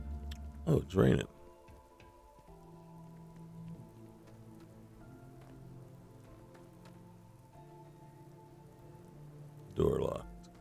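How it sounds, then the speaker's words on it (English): Rain in the Starfield video game, a soft continuous patter with faint ticking drops under a low game ambience, with two short loud bursts of a voice talking near the start and end. "Oh, it's raining."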